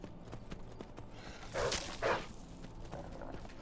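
Horse hooves clip-clopping in a video game, faint repeated steps over a quiet game backdrop, with a couple of louder thuds in the middle.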